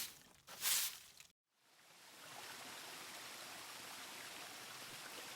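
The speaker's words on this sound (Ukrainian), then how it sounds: "А це шумить водопад." A waterfall rushes in a steady, even wash of broadband noise. It follows a short louder burst and a brief moment of silence.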